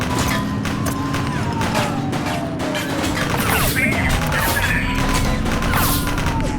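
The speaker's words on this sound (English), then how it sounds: "Shots fired!" Gunfire from a police video game set during a raid on a steel foundry, loud dense bursts of shots and crashes layered over steady game music and sirens, with radio chatter from officers in between.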